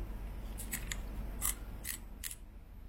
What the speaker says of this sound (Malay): Itu bunyi star drag clicker untuk ATC Combat 101.